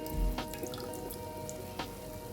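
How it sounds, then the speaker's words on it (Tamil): Water is squeezed by hand out of boiled lentils for a fenugreek leaf thuvattal. Soft, close trickling and a few drips sit over a steady quiet kitchen background. "நான் உங்களுக்கு அந்த தண்ணி பிழிஞ்சிட்டு காமிக்கிறேன்"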